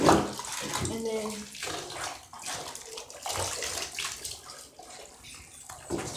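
Water runs and splashes steadily in a bathtub while a puppy is bathed, close and fairly quiet, with a person talking at times over the flow.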